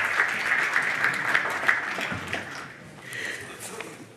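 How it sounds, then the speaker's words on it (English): An audience at a finance institute event applauds a presenter called to the stage, with dense clapping that holds steady, then thins and fades toward the end. "An applause for you."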